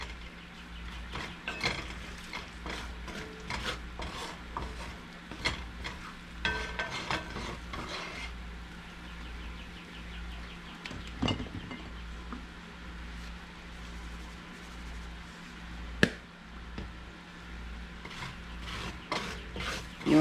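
Flour being stirred and fried in a pan for an old-style dill sauce, with a steady low sizzle under repeated scraping strokes of a utensil and occasional sharp clinks against the pan.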